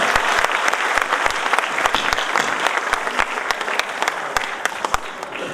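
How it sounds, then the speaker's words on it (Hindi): An audience at a Dr. Ambedkar Jayanti event claps steadily to welcome guests onto the stage, a continuous close wash of applause with sharp individual claps standing out throughout. "कृपया जोरदार तालियों से उनका स्वागत करें"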